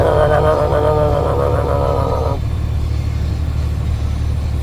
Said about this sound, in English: There's a nice exhaust on the Jake brake